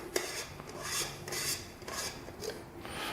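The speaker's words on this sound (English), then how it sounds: "There's a ring around the dome that you have to unscrew." Plastic ring around the dome of a dbell PTZ PoE IP camera being unscrewed, giving a series of dry rasping, grinding twists in short bursts that repeat with brief pauses, close and fairly quiet.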